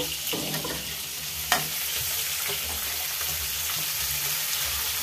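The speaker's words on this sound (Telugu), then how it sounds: "ఎండుచేపల తలకాయలు బాగా చక్కగా ఎర్రగా వేగిపోయి దీంట్లో ఉల్లిపాయ ముక్కలు వేసుకుందాం." Dried fish heads fry with onions in a pan, giving a steady close sizzle with a few sharp clinks and scrapes from stirring.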